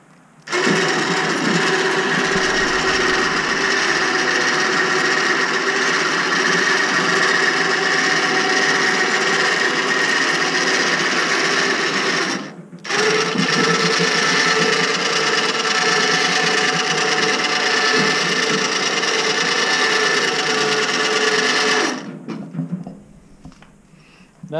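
A Woodmizer LT10 sawmill motor with power feed drones steadily at close range, cutting out briefly midway and then restarting, before winding down near the end.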